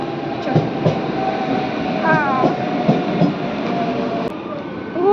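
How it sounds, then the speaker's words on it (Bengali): A Howrah local train rolls past up close, its steady rumble and clatter continuous, with faint squeals and a voice speaking over the passing cars. "হাওড়া লোকাল এসেছে"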